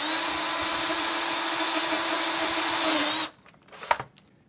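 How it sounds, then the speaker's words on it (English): A power drill whines steadily as screws are drilled out of a Nintendo 64 game console casing, running continuously for about three seconds before cutting off, followed by a few faint clicks and handling noises. "there are only two bastard screws on that thing that I had to drill out"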